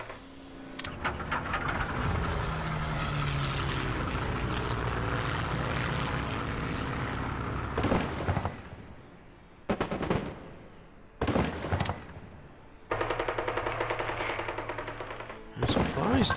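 A bombing raid in the strategy game Hearts of Iron 3 brings a continuous propeller aircraft roar mixed with rattling machine-gun fire, then breaks into shorter bursts of gunfire and explosions separated by brief lulls.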